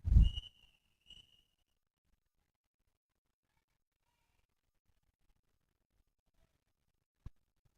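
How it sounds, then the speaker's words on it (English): A referee's whistle at a roller derby game sounds a short shrill blast, then a second briefer tweet amid near silence, with one faint click later. "And with that whistle, we are getting ready to start."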